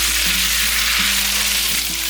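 Kway teow rice noodles being stir-fried with dried tofu in a pan, a steady close sizzle with brief scraping stirs, no talk.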